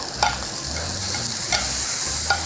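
Beef rib meat sizzling on a grill at a Korean barbecue, a steady close frying hiss with occasional soft scraping and light clinks over a low background hum.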